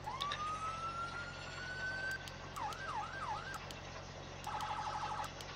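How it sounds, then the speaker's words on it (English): A Whelen 295HSLA6 fire truck siren in Farming Simulator 17 rises in a long wail, switches to a fast whooping yelp, then to a rapid pulsing tone, loud and clear with short clicks between modes. "It's a different siren than the standard siren"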